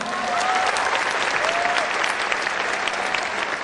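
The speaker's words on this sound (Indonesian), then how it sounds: "Mohon aplaus untuk para pengundang Anda." A seminar audience at a business event breaks into steady, dense applause, with many hands clapping at once and sustained evenly from start to finish.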